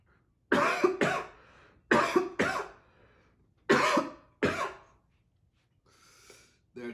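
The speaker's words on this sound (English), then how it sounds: "There's that cough." Harsh, close coughing comes in bursts of two after eating Carolina Reaper cheese balls, with short pauses between bursts and a faint breath at the end.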